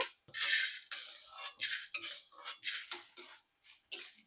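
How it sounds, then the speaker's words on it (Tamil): Dried red chillies frying in a pan are stirred with a spatula, giving a rhythmic run of short scraping and clinking strokes with light sizzle between them. "நம்மளோட காஞ்ச மிளகாவை வதக்கிட்டே இருக்கணும் கருகிடக்கூடாது"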